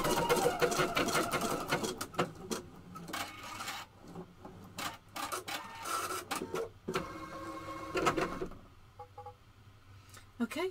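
A computerized embroidery machine stitches out a decorative motif on a hooped project, giving rapid mechanical chattering in bursts with short pauses between runs, close and steady.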